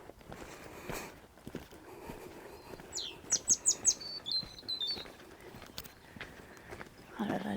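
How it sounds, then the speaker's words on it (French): Birds chirp outdoors on a hike in the Massif de Crussol hills near Valence, a short quick run of high bright tweets in the middle, faint and somewhat distant over light wind and rustling. "Ah là là, les oiseaux en plus."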